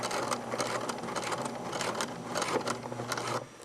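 A sewing machine runs slowly as it stitches through a doubled-thick elastic casing, giving a close, loud, rapid mechanical chatter with small pulses in its rhythm and no speech.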